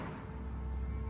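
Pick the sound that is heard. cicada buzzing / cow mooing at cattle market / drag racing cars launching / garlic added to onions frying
cicada buzzing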